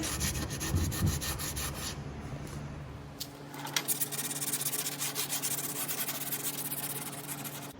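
Hand sanding along the roughed-up edge of a wooden coffee table being refinished, a steady close scratchy rubbing that continues throughout with small breaks in rhythm, alone with no talk.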